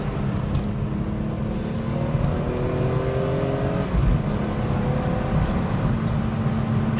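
A BMW E46 M3 coupe engine with SMG II gearbox drones and rises in pitch as it revs, a raspy rumbling note with gear changes, fairly close and steady throughout.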